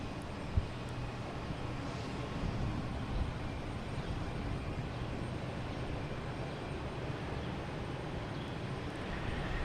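A JetBlue Airbus A220 jet landing at Boston Logan on a flight from Chicago, heard as a steady, moderately distant broadband roar that holds evenly throughout with no voices.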